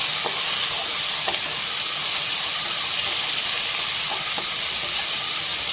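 Finely chopped medium onions fry in hot oil in a pan for capsicum rice, giving a loud, constant hiss with occasional soft clicks of stirring.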